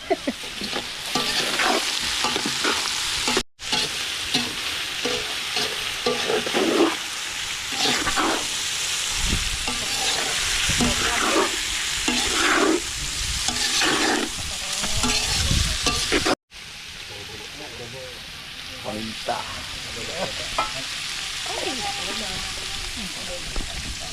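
Food sizzles and fries in a pan while a utensil stirs it, a steady bright crackle with repeated scraping strokes and some talk over the cooking, briefly cut twice.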